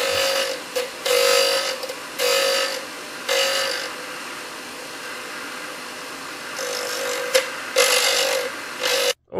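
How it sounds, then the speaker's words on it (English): A drill bit is scraped against a grinding surface while being sharpened, giving repeated bursts of harsh, close rasping, each lasting about a second, separated by short pauses, alone without talk. "Oh, I heard you scrape it on the leading edge."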